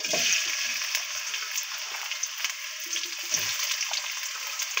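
Onions fry in oil in a pan for a home-style beef bhuna with steady, close sizzling and a constant bright hiss, broken now and then by soft spatters and light scraping, with no voices.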